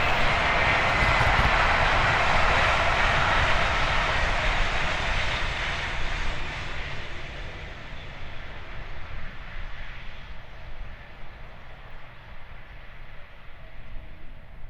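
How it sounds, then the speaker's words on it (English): A Caledonian Sleeper train rumbles past in a broad, loud wash of noise that slowly fades over several seconds, with no voices heard. "So this was the last train's pass before the Caledonian Sleeper came through."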